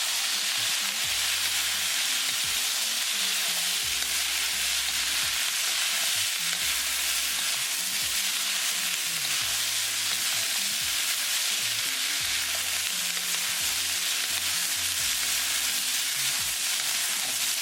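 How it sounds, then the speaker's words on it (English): Bell pepper rice with hoisin and soy sauce is stirred in a pan over a steady, continuous sizzle, with soft low scraping pulses from the spoon recurring throughout and no talking. "Mix it well."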